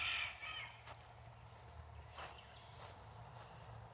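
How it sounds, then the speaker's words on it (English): Hens in a cage at a farm cluck in faint, scattered calls, with a few sharper bursts over low background rumble and no talking. "There are some hens back in a cage."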